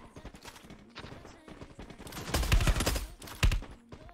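Rapid bursts of automatic gunfire in a shooting video game, with several volleys that grow denser and louder toward the middle and a final heavy burst near the end.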